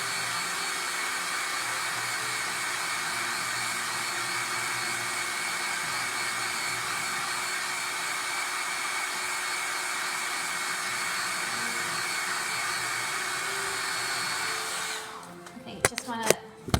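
A hair dryer blowing on a craft project, a loud steady whoosh that runs for most of the stretch, then cuts off, leaving a few knocks and handling sounds.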